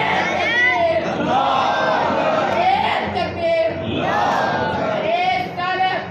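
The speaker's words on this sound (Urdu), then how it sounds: "نعرے تکبیر لگائیے" A crowd at a Mawlid (Milad-un-Nabi) religious gathering in Hyderabad loudly chants the Nara-e-Takbeer slogan, many voices shouting together in sustained, rising and falling waves with no break.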